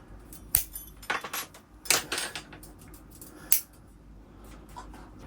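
Wire cutters snip off bonsai wire while a beech bonsai forest is wired, giving four or five sharp, close metallic clicks with light jingling between them and no voices.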